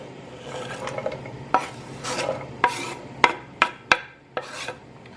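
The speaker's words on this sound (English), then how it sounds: "I'm just gonna add the rest of my veggies" Vegetables go into a skillet with oil and garlic, giving a soft sizzle under sharp scraping and knocking strokes as they are stirred with a utensil, close up and with no talk.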